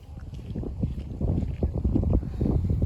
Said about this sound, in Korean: 아 바람 분다